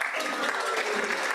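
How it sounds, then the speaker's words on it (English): Audience at a Rotary club meeting clapping, a short, even burst of many hands at moderate volume, with a voice faintly underneath. "Yeah, claps, right?"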